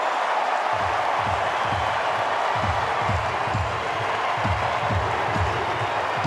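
A baseball stadium crowd cheering a home run in a San Diego at Los Angeles game, a broad sustained roar of cheers and applause with rhythmic thumping claps, fairly distant and steady.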